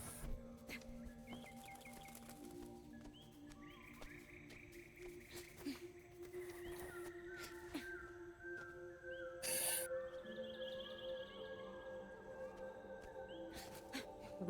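A wolf howls in the video game Neva, long sliding tonal calls woven into a layered game soundscape of sustained drones and music, moderately faint with no speech over it.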